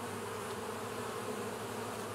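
Honey bees from a large, populous colony buzz around a beehive in early September, making a dense, continuous, faint hum with no voices.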